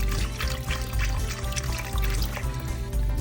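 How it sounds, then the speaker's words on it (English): Chicken stock pours from a carton into a pot of red beans, a close, continuous glugging splash of liquid that carries on for a few seconds with no talk. "we're gonna fill the rest of this pot up with some chicken stock"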